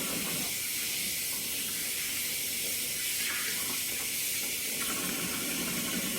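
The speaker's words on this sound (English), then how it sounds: "Turning off the water" A bathroom tap runs at a steady, hissing stream while hands are rinsed. The flow holds constant throughout with no voices.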